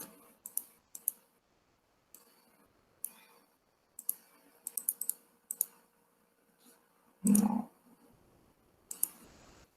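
Computer keyboard typing while filling a spreadsheet cell, scattered quiet clicks and short bursts of keystrokes with gaps, close and faint, plus one brief louder thump, no talk.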